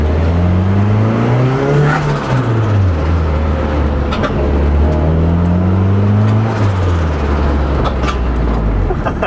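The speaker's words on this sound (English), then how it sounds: "Little exhaust tings every 2 seconds." A boosted Nissan 240 driving, its engine droning loud and close as revs rise and fall in two broad swells, with light metallic exhaust tings now and then over the steady road roar.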